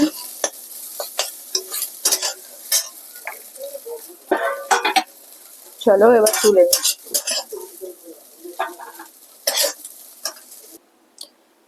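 Food frying in a kadai is stirred with a metal utensil, giving repeated scraping clinks and sizzling bursts close by, with a brief spoken line partway through.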